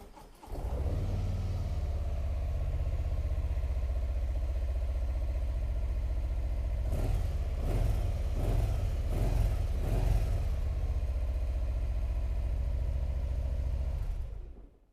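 A Harley-Davidson FXLRS Softail Low Rider S motorcycle with a 114 engine starts and idles with a deep, steady rumble, briefly blipping the throttle a few times midway before settling back.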